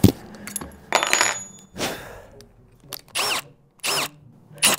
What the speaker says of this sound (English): Now I'm going to cut the plugs to fill these screw holes with this plug cutter.